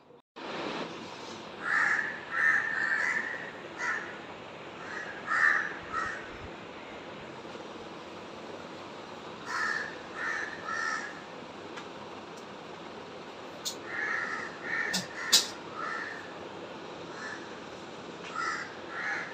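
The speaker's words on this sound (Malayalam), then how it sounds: "രാവിലെ നല്ല കാക്കകളുടെ ശബ്ദം കേട്ടോണേ ഞാൻ ഇച്ചിരി വീഡിയോ പോലെ എടുത്തതാണ്." Crows caw in the morning outdoors, with repeated bursts of harsh calls at moderate distance separated by quiet stretches over steady background hiss.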